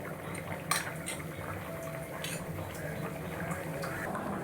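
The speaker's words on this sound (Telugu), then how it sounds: "ఇలా ముక్కలుగా కట్ చేసుకున్న ఎగ్స్ని మనం ఈ బాయిల్ అవుతున్న కూరలో వేసుకుందాం." A potato and tomato curry simmers in a pot as cut eggs are added, a steady low bubbling hiss with a few light clinks of a utensil against the vessel.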